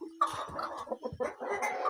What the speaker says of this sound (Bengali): বাহামা মুরগির অ্যাডাল মোরগ।